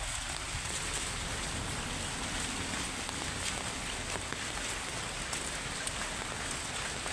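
Steady rain falls over a village in Mindanao, a dense, even hiss of drops on surfaces that carries on without a break, with no talking.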